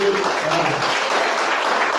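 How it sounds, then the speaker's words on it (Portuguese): A church congregation breaks into applause during a sermon, a brief, dense burst of many hands clapping that fills the room. "Quem entendeu pode aplaudir."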